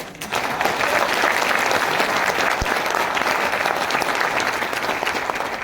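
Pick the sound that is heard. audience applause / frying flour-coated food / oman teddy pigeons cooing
audience applause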